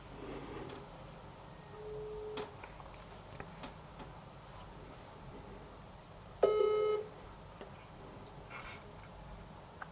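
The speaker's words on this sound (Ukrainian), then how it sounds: "Телефонуємо переможцю." A telephone call being placed to a prize-draw winner, heard as faint scattered dialing beeps and short tones, then a louder sustained ringing tone partway through, in an otherwise quiet room.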